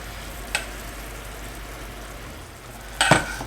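Enoki mushrooms fry in a pan under a low, steady sizzle, broken by a brief clink near the start and a louder scrape and splash as spicy sauce is spooned over them near the end; no talking.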